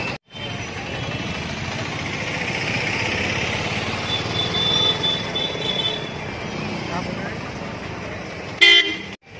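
Street traffic in India with a continuous engine hum, car horns tooting through the din, and people talking nearby, ending in a brief louder burst.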